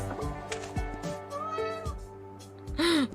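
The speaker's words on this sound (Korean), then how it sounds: "근데 진짜로 골골댄다 고양이? 어? 어 고양이 왜 이렇게 많아" Several cats meow in the pixel-art video game A Space For The Unbound, with a couple of rising meows over a layered game soundtrack and a louder, higher meow near the end; no one speaks.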